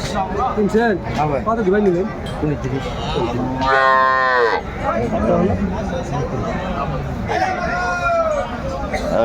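Cows and calves lowing at the Aftabganj cattle market, one long, loud moo standing out clearly over steady crowd chatter and nearby talk.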